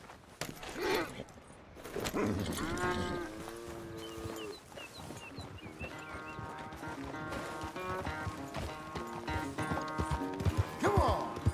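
Horse hooves clip-clop at a steady pace around a ranch in Red Dead Redemption 2, amid game music and tonal sounds, with a horse whinnying near the end.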